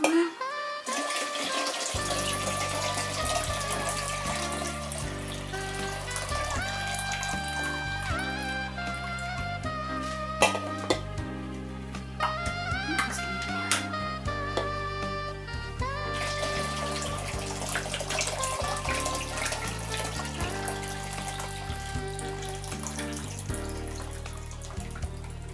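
Marinade poured into a glass jar of pickled watermelon, a steady liquid stream running and gurgling for a long stretch with occasional clinks, close and fairly loud over a background of music.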